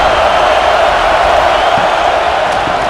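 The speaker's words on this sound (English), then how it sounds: "Listen to the crowd energy here in the early going." Stadium crowd roaring in College Football 26 during an Indiana Hoosiers vs Ohio State Buckeyes game, a loud, steady wash of distant fans that holds without a break for the whole stretch.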